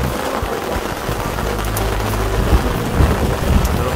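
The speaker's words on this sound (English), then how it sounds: "Thunder and lightning, too." Heavy thunderstorm with steady loud rain pouring on surfaces and low rumbling thunder building toward the end, no voices.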